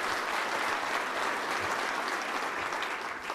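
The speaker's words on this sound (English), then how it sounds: "give our sponsors a quick round of applause too" An event audience gives sponsors a thick, sustained round of clapping that holds steady throughout, loud and close, without speech on top.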